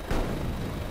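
A helicopter fires a rocket in a video game, a single sudden loud blast that decays into a rumbling roar over less than a second.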